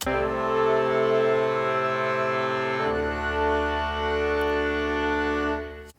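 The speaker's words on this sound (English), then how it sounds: "and then our woodwinds sound like this" Sustained woodwind chords hold steadily, shifting to a new chord about halfway through before fading out at the end.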